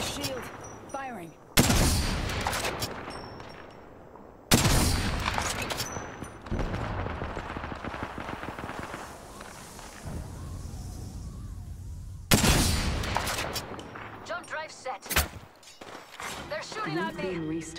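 Bursts of gunfire from the Apex Legends video game, loud volleys at roughly 2, 4.5 and 12 seconds with denser rattling between, mixed with game voices and effects.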